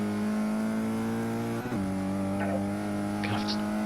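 A car engine in the Forza 6 racing game drones with a steady tone as the throttle is applied, its pitch shifting at one point, while someone talks over it.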